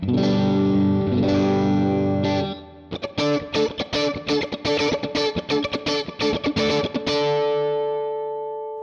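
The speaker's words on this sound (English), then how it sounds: "the typical out of phase stratty quacky position sounds like this" Stratocaster in out-of-phase position four, with a thin, quacky single-coil tone: a sustained strummed chord, then a run of rapid rhythmic strums ending on a ringing chord.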